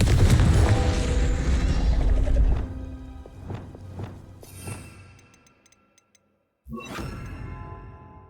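Confringo explosive spell blast in the Hogwarts Legacy video game, a loud booming burst that rumbles and fades, followed by lighter whooshes and dings, a brief silence, then another sudden impact.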